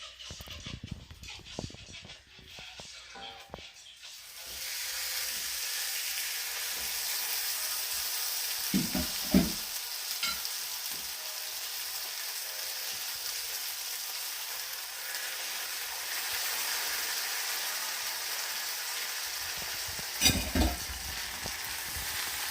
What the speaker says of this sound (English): now I have my grill pan on kind of medium-high heat. I have a mixture of butter and oil in there